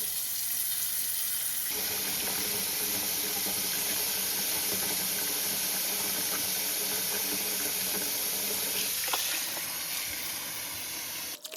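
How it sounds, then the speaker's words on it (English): Tap water runs steadily into a pot with a continuous hissing splash while washing seitan dough, a faint rattle near the end before it cuts off. "I'm going to fill my pot back up with water."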